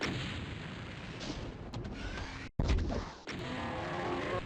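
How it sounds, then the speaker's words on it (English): A rocket launcher fires in the classic shooter DOOM, TNT: Evilution map Nukage Processing, with a sudden loud blast and booming explosion cutting through steady game ambience. "let's send a rocket at those guys up there"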